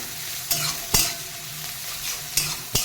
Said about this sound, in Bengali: পেঁয়াজটা হাফ ভাজা হয়ে গেছে